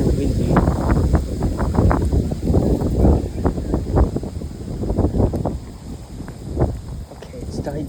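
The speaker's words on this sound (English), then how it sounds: "It's very very windy." Strong wind gusts roar steadily across an outdoor microphone on a muddy walk, a loud continuous buffeting rumble with brief rises and falls and no pause.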